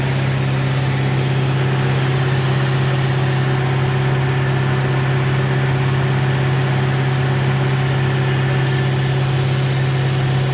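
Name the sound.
nitrogen servicing cart engine and compressor running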